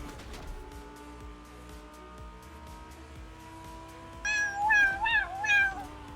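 Indoors, a cat lets out a run of loud, close meows in the second half, several calls in quick succession over a steady background hum.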